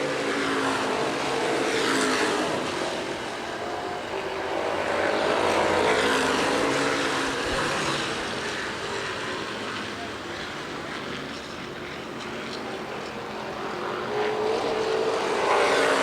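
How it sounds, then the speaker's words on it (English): Street stock race cars lapping Winchester Speedway during a feature event, with a steady, rising and falling roar of engines as the pack passes. A race announcer talks over it. "Off at turn number 4, white flag, 1 lap to go for Jeff Lane in the number 73."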